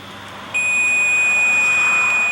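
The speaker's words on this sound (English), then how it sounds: "the unit emits a constant warning beep, alerting you to change the batteries" An AC Hotstick voltage detector sounds its low-battery warning, a single steady high-pitched electronic tone that starts after a short pause and holds without a break.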